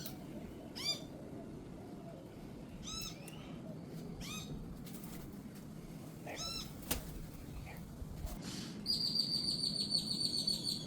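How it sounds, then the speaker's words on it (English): Birds being fed popcorn give a series of short, sharp chirping calls spaced a few seconds apart, then a higher, sustained call near the end, all fairly faint over a low background rumble. "There's a bird down there trying to take his piece of popcorn."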